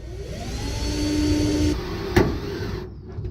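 A spot weld cutter bores into the sheet metal of a 1970 Plymouth 'Cuda, whirring with a steady high-pitched whine, then a sharp metallic bite near the end before the drill spins down and stops.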